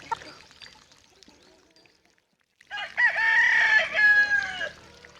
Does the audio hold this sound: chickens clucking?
yes